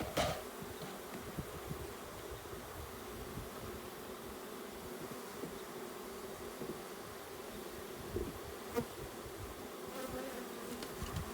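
Continuous buzzing of many bees close by as a bee package is installed on drawn comb hive frames, a dense droning hum with occasional louder passes and faint rustling, no voices.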